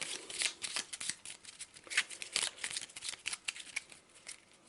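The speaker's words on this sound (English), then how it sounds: "So we'll just give it a quick shuffle." A deck of cards from the Arkham Horror board game being shuffled by hand, quick crisp riffles and flicks close up, soft and without talk.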